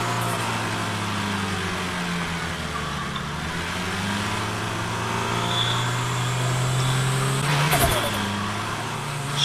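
A car engine in the driving game Drive Beyond Horizons, fitted with a turbo, hums steadily at a low, even pitch with a brief rise near the end, running under talk.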